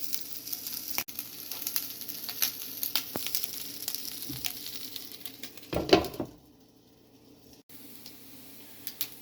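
Costco gyro meat slices frying in a pan, with a steady close sizzle and crackle, a brief clatter as the slices are flipped, then a sudden drop to near quiet.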